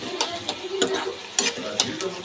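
Cabbage manchurian sizzles steadily in a pan while a spoon scrapes and stirs it in several sharp, irregular strokes, close and clear with no talking.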